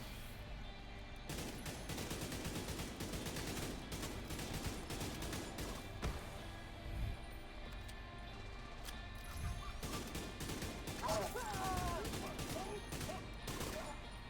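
Sustained bursts of minigun fire in the video game Division 2, dense rapid shots with short pauses between them, loud and close, with crashes and impacts mixed in over game noise.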